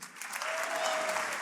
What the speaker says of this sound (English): Let's have a huge round of applause for them.